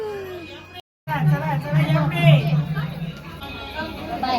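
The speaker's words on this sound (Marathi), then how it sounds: "गर्दी पाहू शकता गर्दी भरपूर आहे" Crowd chatter at the Tembalai Yatra village fair, a dense murmur of many voices around with a nearer voice talking over it after a brief cut.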